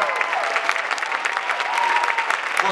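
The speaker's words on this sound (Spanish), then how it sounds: "Un fuerte aplauso." Dense, steady audience applause at a theatre presentation for a ghost-themed musical, sustained throughout, with a faint murmur of voices underneath.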